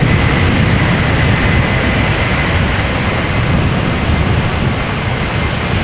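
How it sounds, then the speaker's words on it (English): A KLM Airbus A330-300 airliner bound for Sint Maarten at Amsterdam Schiphol, loud continuous jet engine roar close by with wind noise, no talk. "KLM flight 787 A330-300, destination Sint Maarten."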